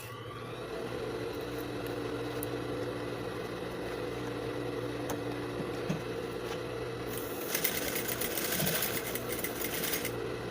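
A sewing machine runs a steady line of stitches along the edge of a milk carton, its even whirring hum continuing alone and growing a bit brighter and busier near the end.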